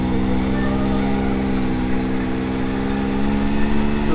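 A 2022 Can-Am X3 DS Turbo side-by-side engine runs steadily at a low, even idle after a P Drive primary clutch install, giving a continuous close, droning hum with no talk over it.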